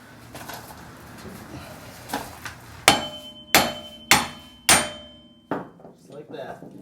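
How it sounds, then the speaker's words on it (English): Hammer blows knocking wheel studs out of a rear hub and bearing assembly from a 2004 Corolla, five sharp metallic strikes in a steady rhythm, close and loud, with lighter taps before and after. "Alright, I'll show you how to take these studs out."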